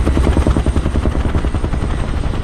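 Huey helicopter rotor in the flight simulator DCS World, a loud, close, continuous rhythmic thudding chop with dense engine rumble and no other sounds.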